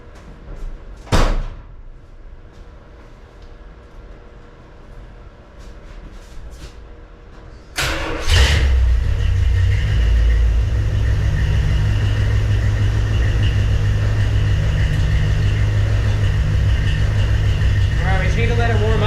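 A 1987 Dodge D100 truck with a new Speedy 10 exhaust gives a couple of thuds and knocks, then the engine cranks and catches into a loud, steady rumbling idle that carries on to the end.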